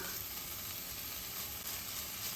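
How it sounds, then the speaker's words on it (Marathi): Dried coconut sizzling and frying in a pan with softened onion and tomato, a steady close hiss of sautéing with no pauses and no talk. "एखाद मिनटंच हे मी परतून घेते"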